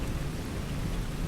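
Steady heavy rain with a low rumble of thunder beneath it, a dense, continuous wash of sound with no voices.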